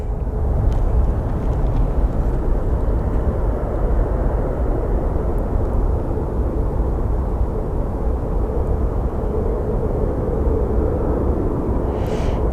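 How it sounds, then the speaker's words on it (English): Sun Country airliner departing Sky Harbor, a loud, sustained jet roar that holds steady throughout with no voices over it. "we do have our Sun Country departing"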